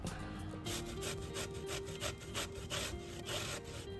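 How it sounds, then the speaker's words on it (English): Zucchini grated on the small holes of a metal grater for gluten-free zucchini bread, a rapid rhythmic run of rasping strokes, close and steady, with no talking. "So go ahead and just grate away, and I'll show you what that looks like."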